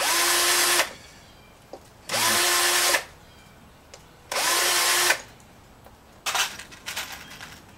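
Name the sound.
power drill deburring metal pieces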